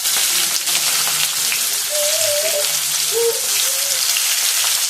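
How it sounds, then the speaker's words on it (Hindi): Chopped onion frying in a pan, a steady close hiss and crackle of sizzling with no talk over it. "प्याज को थोड़ी देर भूनेंगे"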